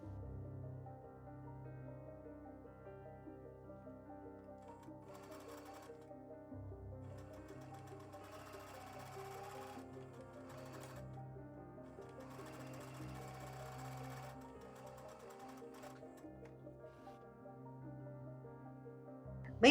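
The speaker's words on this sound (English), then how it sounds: "Take it to your sewing machine and stitch about 1/4 inch from that fabric edge" A sewing machine runs steadily, its motor humming with a rapid mechanical stitching rhythm that pauses briefly and resumes, with no talking.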